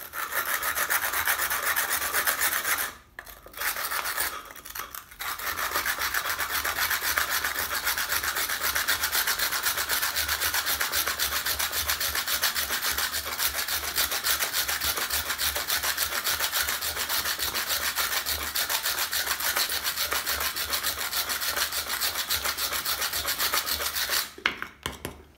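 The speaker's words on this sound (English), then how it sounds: "Even no abrasive, just with a toothed copper saw." A toothed copper saw cuts into sandstone without abrasive, making a continuous gritty rasping close by, broken by two short pauses early on and a brief stop near the end.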